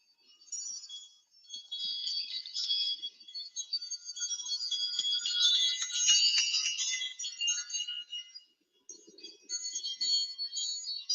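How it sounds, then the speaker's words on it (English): Delicate high-pitched chimes shimmer continuously, tinkling in overlapping waves with a brief pause before resuming, soft and bright with no voices. "the sound of the fairy bells that puts me into this magical thinking place"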